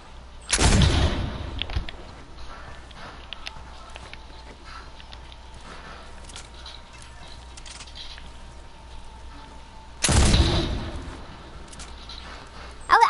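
Gunfire in a PS4 video game: two loud, sharp bursts of shots about ten seconds apart, with a low, quiet background between them.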